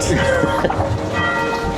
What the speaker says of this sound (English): And yes, that is the midday bell.